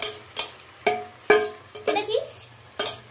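Biryani rice fried with whole spices is stirred in a pot, giving repeated scraping strokes of a spoon against the metal, about six distinct close pushes with a soft sizzle underneath.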